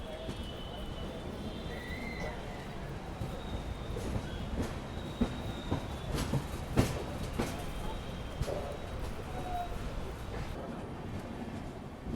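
A Hyderabad Duronto Express train entering a railway station rumbles steadily with rhythmic wheel clacks over rail joints, a faint horn tone and a voice talking over the running noise.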